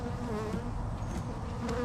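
Honey bees buzzing at a hive: a dense, steady, close swarm drone that fills the whole stretch without a break.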